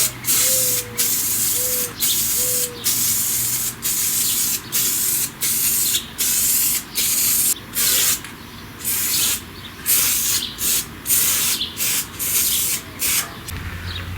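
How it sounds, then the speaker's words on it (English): Repeated short hissing bursts from an aerosol can of Tuscan Sun paint sprayed onto a cyclekart's engine compartment, close and steady, each spray lasting about half a second with brief gaps between. "there's my first can of Tuscan Sun. Getting ready to shoot that on."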